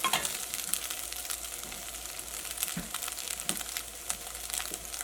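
Egg frying in a pan with ground paste from a mixer added: a continuous close crackling sizzle with small irregular pops and faint stirring scrapes, steady in level.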